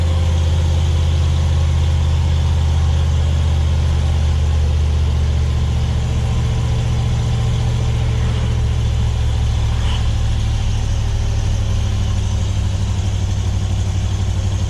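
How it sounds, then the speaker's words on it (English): A pickup truck hauling a hooked-up trailer of junk drives slowly along a rough road, its engine giving a loud, steady low rumble and drone that holds throughout with no talking. "trailer's pulling pretty good. Truck's all smoothed out."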